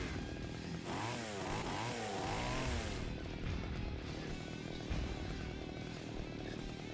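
Chainsaw in Splatterhouse revving with rising and falling whines early on, then a rough buzzing drone continues at a moderate level under game noise.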